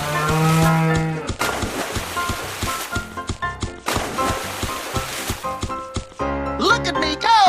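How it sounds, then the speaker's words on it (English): A cartoon cow moos over bouncy cartoon music and effects, the low moo standing out clearly near the start and returning toward the end. "cow,"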